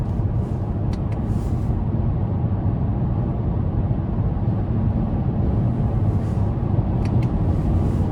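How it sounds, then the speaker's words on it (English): A 2024 Toyota Camry XSE V6 engine held at high RPM in eco mode, heard from inside the cabin as a steady, continuous low drone with road noise and no talking. "if I want to keep it at high RPMs to kind of give it throttle, even in this setting here in eco mode"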